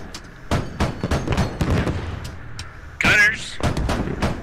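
Gunfire in the Squad video game: a series of sharp shots in quick succession, loud and close, with one heavier burst near the end, mixed with muffled voices and game noise.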